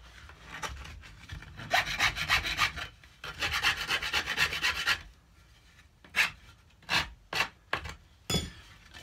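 A rasp is drawn across the corners of a wooden cigar box guitar neck in fast rhythmic bursts of scraping strokes, then a handful of separate single strokes. Close and clear, with no talking.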